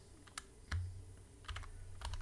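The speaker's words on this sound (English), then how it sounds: "I'm using a really weird keyboard" Typing on a computer keyboard, a few sharp key clicks in small irregular bursts over a quiet room background, close and fairly faint.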